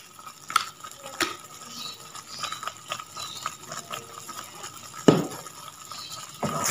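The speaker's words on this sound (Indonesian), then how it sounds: "ini kita aduk-aduk lagi teman-teman ya" Thick peanut sauce for vegetarian siomay being stirred in a pan: quiet, irregular scraping and soft liquid movement with a few sharper clinks of the utensil against the pan, no voices.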